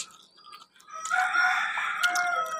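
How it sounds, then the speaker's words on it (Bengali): Chickens kept on the ground floor of a two-storey house beside a road call out; faint clucks give way to a loud, close rooster crow lasting over a second. "মাঝে মাঝে মুরগির ডাক শোনা যায়"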